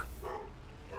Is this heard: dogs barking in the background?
yes